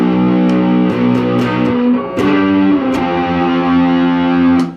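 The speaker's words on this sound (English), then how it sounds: "So now we got a rat pedal, and here it is by itself." An electric guitar played through a Rat distortion pedal on its own, heavy sustained chords ringing with thick, gritty overdrive, several strummed changes with brief pick attacks, loud and close with no talk.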